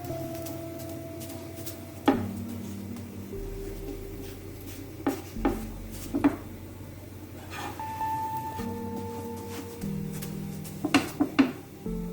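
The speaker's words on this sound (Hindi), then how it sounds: "कोई हार्ड चम्मच लेके आप इसको ज़रा ऐसे प्रेस कर ले ताकि इवनली जो है ना कुक हो जाए" A hard spoon pressing and scraping food in a cooking pan, scattered sharp metallic clinks and taps spaced irregularly over a low steady background hum, fairly close.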